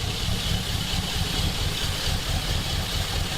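A Jeep Grand Wagoneer engine runs steadily at idle, long seized and recently revived, with a bad alternator bearing adding a constant mechanical whine over the low, even rumble, close and alone with no talk.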